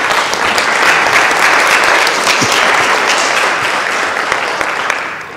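A lecture audience applauds steadily for about five seconds to welcome former minister Kim Young-choon to the stage, a dense, even wash of clapping with no voices over it.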